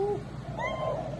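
A real pet cat gives a short, close, fairly loud meow with a rising then falling tone, heard alone with no talking.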